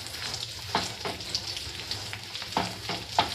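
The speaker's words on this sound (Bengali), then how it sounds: "এইভাবে রুটিটা একটু ভালো করে ভেজে নিচ্ছি" Roti frying in a pan for a homemade egg roll gives a soft, steady sizzle with a few sharper scraping clicks and stirring taps scattered through it. Close, moderate level, and no voices.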